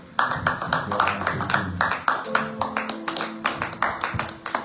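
A church congregation claps together for a mother at a prayer service, with a steady run of sharp, close claps. A voice sings or calls faintly beneath the clapping.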